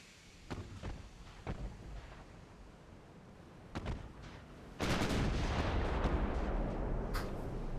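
Secondary guns firing during a naval battle in the warship game Ultimate Admiral: Dreadnoughts: a few scattered sharp reports, then a dense, continuous barrage of booming fire from about the midpoint onward, with no talk.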